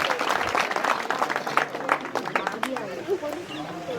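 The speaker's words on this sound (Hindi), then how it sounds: "कृपया ताली बजा दीजिएगा।" Villagers in Lamba village, Tonk, Rajasthan clap in welcome for a visiting guest, a loose scattered applause mixed with crowd chatter and babble, moderately distant and uneven.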